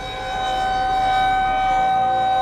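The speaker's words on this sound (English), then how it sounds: "I'm right next to a tornado siren as I'm filming this." A loud, sustained tornado siren wails close by in North Dakota, a steady rising tone holding strong throughout with no other sounds.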